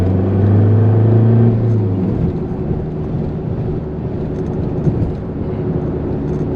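A Ford Mondeo ST TDCi diesel car pulls away under acceleration, with a loud, steady engine drone at the start that settles into a rougher, continuous rumble as the revs build and then level off.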